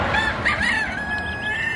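A rooster calls up close, a drawn-out crow-like vocalization lasting about a second, with steady outdoor background and no talk.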